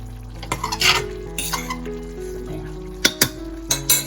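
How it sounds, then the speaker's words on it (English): A cauliflower stew in tomato sauce, simmered for half an hour, is stirred and then poked with a fork. Close metal scrapes and clinks ring against the pot over a steady low hum and soft bubbling, ending in a few sharp taps. "just mix it a little bit and check it with my fork"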